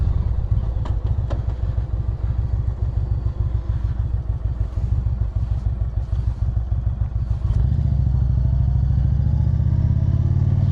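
A motorcycle fitted with a memory foam seat rides along a main road, its engine chugging steadily up close before revving into a louder, smoother drone as it picks up speed.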